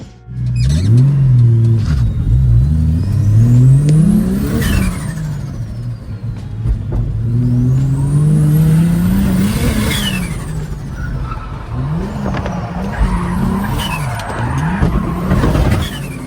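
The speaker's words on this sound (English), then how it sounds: "We're heading back and we're going to do some skids." A Ford XR6 Turbo revs hard and skids, with a loud, continuous engine roar rising and falling through repeated throttle sweeps and tyre squeal throughout.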